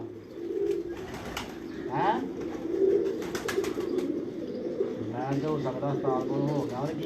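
Low, repeated coos close by from Salara pigeons, with murmuring voices and other bird sounds in the background.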